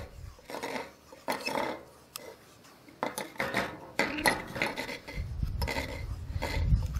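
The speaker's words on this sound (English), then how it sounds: "I put my spindle into a large bowl." A drop spindle set down into a large bowl gives several light clattering knocks and scrapes in the first seconds, followed by soft rubbing and handling noises. The sounds are close and fairly quiet, with no talking.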